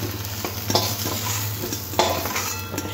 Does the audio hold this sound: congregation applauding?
no